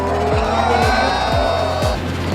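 Formula 1 race cars roaring past at the Canadian Grand Prix track in Montreal, a series of loud high-pitched engine passes, about four in quick succession, each with a falling pitch.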